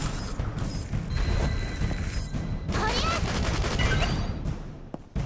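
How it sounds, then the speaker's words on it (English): Rapid gunfire in the video game Dead or School, dense bursts of shots and booms firing nearly continuously over several seconds, loud and busy with crashing impacts mixed in. "Keep firing. Keep firing."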